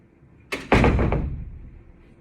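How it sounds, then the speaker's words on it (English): A door swings shut in a lecture room with a single solid thud and a short rattle, heard close and alone, then fading quickly. "I'm going to close that door."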